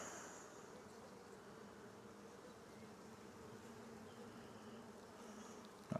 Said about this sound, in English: But that's a lot of bees right there